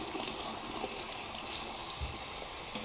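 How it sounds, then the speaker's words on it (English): Russet potatoes are rinsed under running tap water, a steady gushing flow with faint handling sounds beneath, no voices. "So you just rinse off the skin."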